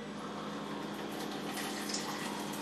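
Water steadily pumped from a touch-activated electric dispenser into a cooking pot in a home kitchen, a continuous close hiss and gush lasting a few seconds with no talking.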